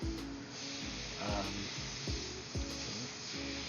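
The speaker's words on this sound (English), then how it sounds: "all I did is turn up the pressure a little bit and it's spraying it really good, nice and easy" An airbrush sprays unreduced paint onto a T-shirt, making a continuous airy hiss at turned-up pressure while faint music with a steady beat plays underneath.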